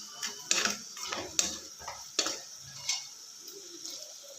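A spoon scrapes and stirs through chili powder mixed into a fenugreek and bengal gram palya, with soft irregular strokes and light clicks against the pan, quiet and close.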